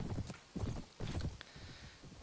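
A horse's hooves clop in rhythmic bursts during a battle in the video game Mount & Blade: Warband, with about four thudding groups of steps, fairly close and moderately loud.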